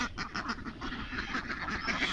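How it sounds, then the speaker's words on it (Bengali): Ducks quacking on a village road in the morning, a fairly faint, continuous chorus of overlapping quacks from a group of birds. "আর হাঁসেরা তখন এই দেখেন মিছিল মিটিং করছে।"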